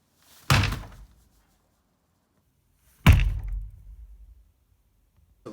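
A volleyball strikes a door twice, each a sharp, loud thud with a brief rattle, about two and a half seconds apart, with no talking.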